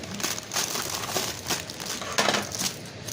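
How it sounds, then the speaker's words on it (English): Scissors snip through rubber bands and plastic sleeve wrapping on a bunch of carnations, a close run of crinkling plastic and sharp cutting clicks for about three seconds with no talking. "You're going to need some scissors to just cut off these rubber bands in this plastic, so let's do that."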